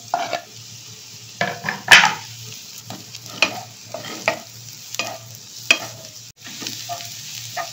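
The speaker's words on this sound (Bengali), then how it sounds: "এইবার আমি রসুনটা দিয়ে নেব, দিয়ে পেঁয়াজ আর রসুন একসঙ্গে ভাজবো" Chopped onion and garlic fry together in a pan for pasta, giving a steady soft sizzle broken by repeated sharp scrapes and clinks of a spoon stirring against the metal, with no one speaking.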